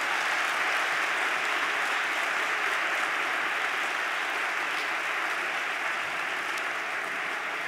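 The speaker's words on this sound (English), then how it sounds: "I just would like to give everyone who was on stage today one final round of applause" A live audience gives a sustained round of applause for the people who were on stage, dense, even clapping from many hands filling the room with no gaps.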